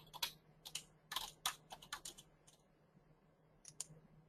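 Keys clack on a computer keyboard in short irregular bursts of crisp taps with brief pauses, fairly close and quiet, with no talking over them.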